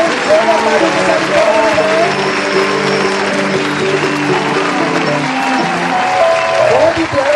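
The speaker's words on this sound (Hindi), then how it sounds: "जोरदार तालियां इन बच्चों के लिए" Audience applause for children at a school annual function, a dense steady wash of clapping lasting several seconds under tonal music and voices.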